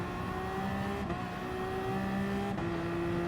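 A Toyota race car engine in GT Sport at the Fuji circuit, a steady high whine holding a sustained tone with two gear shifts, running close and loud with no talking.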